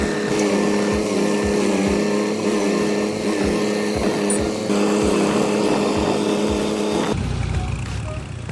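A John Deere 550D tractor with a three-cylinder 0.9L diesel making 50 horsepower labors while bogged in heavy mud, its engine droning steadily with a rhythmic low thumping, then the tone shifts in the last second.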